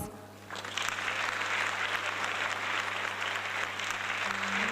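An audience at a university diploma ceremony breaks into warm, sustained applause, a dense even clapping that starts almost at once and keeps going without voices over it.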